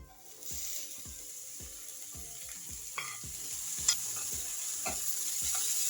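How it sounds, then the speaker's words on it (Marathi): Fenugreek leaves stirred in a spoonful of ghee in a wok, with a steady soft sizzle and a regular series of scraping spatula strokes, close and alone. "कढईमध्ये 1 चमचाभर तूप टाकून घेऊ आणि त्यामध्ये आपण मेथी परतवून घेऊ"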